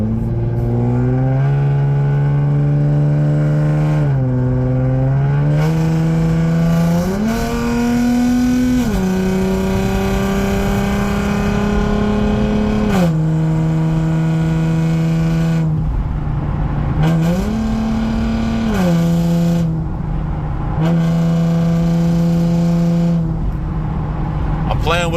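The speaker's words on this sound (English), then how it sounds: "Playing with the throttle so I can get a feel of how hard I'm going" A Lexus IS 250 engine with a ported manifold revs under changing throttle while driving, a loud continuous drone that steps up and down in pitch with each press and lift.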